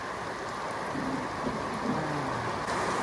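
Steady rain hisses evenly throughout, a dense wash of falling water with no voices.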